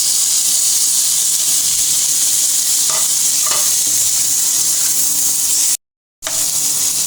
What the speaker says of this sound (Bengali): এবার কিছুক্ষণ নেড়ে নেব, হালকা নেড়ে নিয়েছে, এবার দিয়ে দেবো টমেটো কুচি